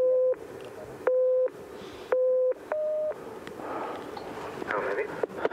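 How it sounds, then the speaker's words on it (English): Alternating low and high electronic test tones sound in short discrete beeps, four evenly spaced bursts followed by a quieter stretch of breathy background noise and faint talk. "count the low tones and ignore the high tones"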